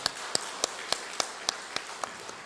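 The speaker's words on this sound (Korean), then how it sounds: "우리 한번 이 시간에 우리 어르신들 위해서 한번 박수 한번 할까요?" A church congregation at a Sunday service claps for its elders, a sparse, even run of about nine distinct claps at a steady rhythm, close and clear, fading slightly toward the end.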